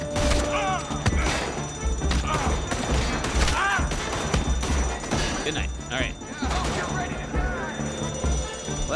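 Gunfire from a Red Dead Redemption 2 shootout, with repeated sharp shots and bursts spread across the stretch, mixed with ongoing talk and game sounds.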